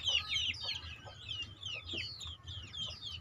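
Breeding hens and roosters at a chicken farm cluck in repeated rising calls, fairly close, over a low background hum with no talk.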